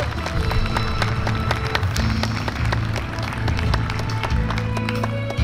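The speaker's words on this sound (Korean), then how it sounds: "윤상현 국회의원님 여러분 뜨거운 박수로 환영해 주십시오." Guests at an evening of Korean Chuseok art songs applaud warmly to welcome a National Assembly member, brisk clapping mixed with rhythmic thumps and a low droning hum throughout.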